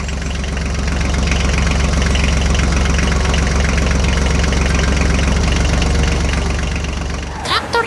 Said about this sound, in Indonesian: Traktor hijau melaju di jalan yang mengarah ke kota, mengangkut hasil panen yang menanti.